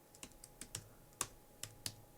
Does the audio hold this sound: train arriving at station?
no